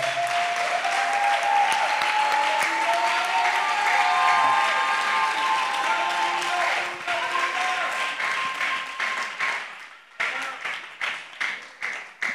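A church congregation claps loudly and steadily during a thanksgiving service, with voices and sung tones mixed in; the applause thins into scattered, uneven claps near the end.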